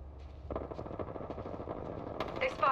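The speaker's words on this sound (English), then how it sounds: "I'm taking fire." Apex Legends gameplay carries continuous rapid gunfire in a dense, rumbling stream, moderately loud and mixed with other game effects and a brief electronic chime near the end.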